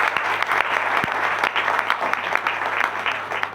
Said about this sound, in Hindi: मैं चाहूँगा एक बार जोरदार तालियां बजाइए।